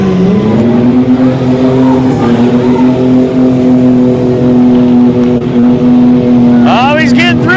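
A mud bog truck running on front-wheel drive only after losing its rear drive shaft roars loudly and steadily through deep mud, with a sustained engine drone and a late rev swell, while a commentator talks over it.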